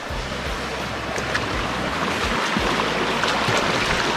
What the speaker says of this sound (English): I love hear the sound of the river